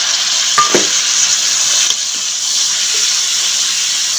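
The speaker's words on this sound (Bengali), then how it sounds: "এখন আমি দিয়ে দিচ্ছি বাটা পেঁয়াজ" Onion paste added to garlic paste already browned in hot oil for a puti fish curry, sizzling in a steady loud hiss with a couple of brief scrapes near the start.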